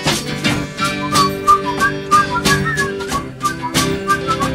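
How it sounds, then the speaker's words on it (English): A bright whistled melody carried over a rhythmic musical backing, loud and upbeat, with no talking. "Everybody whistle."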